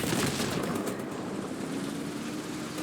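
In the War Thunder video game, a Vulcan anti-aircraft gun fires as one dense, continuous roaring burst. The sound is loud and close, lasts throughout, and has no talking over it.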